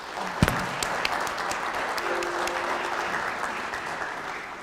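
A lecture audience gives a round of applause for the event's tech team, a dense, steady clapping that holds evenly throughout with a couple of sharper claps near the start.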